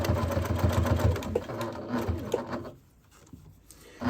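Fabric for a microwavable bowl cozy runs through a sewing machine in a steady, close mechanical whir of rapid stitching, which fades out near the end before starting up again briefly.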